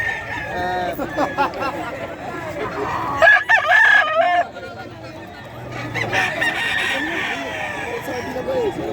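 Roosters crowing at the Bocaue pet market, several loud close crows with clucking and bustle around them, and people talking in the background.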